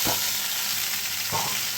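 Chowmein stir-fried in a pan, a loud continuous sizzle broken by two scraping tosses of the noodles, one at the start and one near the end, with no talking.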